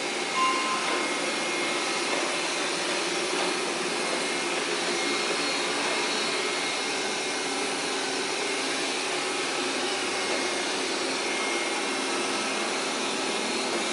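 A Roborock S5 Max robot vacuum cleaner runs in turbo/maximum mode with a steady, unbroken whirring hum from start to finish, with no voices over it.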